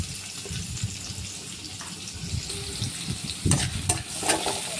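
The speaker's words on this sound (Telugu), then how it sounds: "బాగా వేయించుకోవాలి" Onions fry in hot oil for egg fried rice made with leftover rice, a steady soft sizzle with stirring scrapes and a few utensil clinks near the end.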